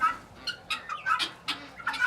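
Guinea fowl call in a quick series of sharp, harsh squawks, about eight bursts in two seconds, close and fairly loud against quiet background.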